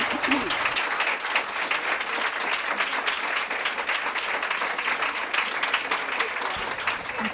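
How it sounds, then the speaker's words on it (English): An audience at a lecture gives a sustained round of applause, dense and even clapping from a full hall that continues unbroken for over seven seconds. "Let's give a huge round of applause for Meryl."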